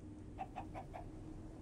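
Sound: chicken clucking in Minecraft modpack video game

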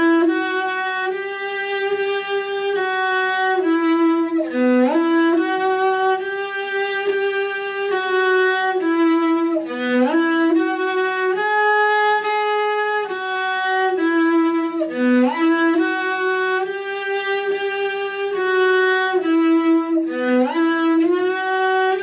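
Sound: cello playing Suzuki positioning etude in fourth position

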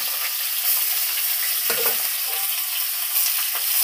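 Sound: curd added to pan of jackfruit curry, sizzling

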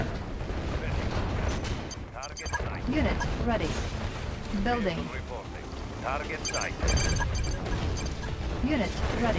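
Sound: explosions and artillery fire in video game Red Alert 2

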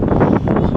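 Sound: strong wind on a rooftop

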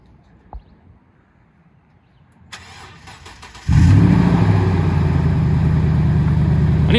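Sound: Toyota Tundra engine remote starting with open exhaust valves

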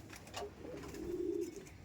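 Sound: Andhra Madrasi pigeons

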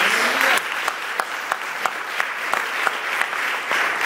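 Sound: congregation applause

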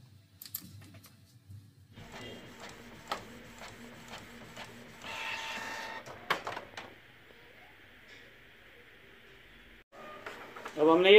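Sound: printer printing a tattoo stencil

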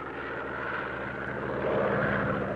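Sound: Blohm & Voss BV 141 propeller aircraft engine

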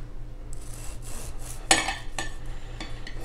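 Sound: cutting a hot chocolate chip banana bread

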